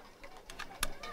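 A pigeon coos softly in short, quiet bursts as a photo is being taken, heard alone with no talk.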